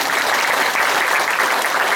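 An audience at a talk on family life claps in a steady, dense burst of applause that fills the room evenly for a couple of seconds.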